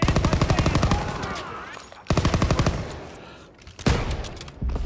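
In a WWII shooter, rapid automatic gunfire rattles in evenly spaced bursts, loud and close, broken by short gaps and a sharp blast near the end.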